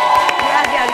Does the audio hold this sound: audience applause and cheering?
yes